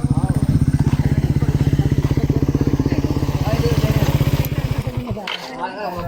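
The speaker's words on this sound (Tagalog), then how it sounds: "Kala ko hindi under yung motor natin kaya pinandar ko na agad eh." A motorcycle engine idles close by with a loud, rapid, steady thumping putter that rattles on for several seconds, then stops, while people talk over it.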